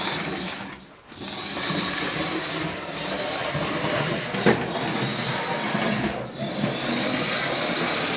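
A model Britannia steam locomotive runs on track powered by an H&M Duette controller, giving a steady, close mechanical whirr and rattle for several seconds, with a brief dip and a couple of small clicks along the way.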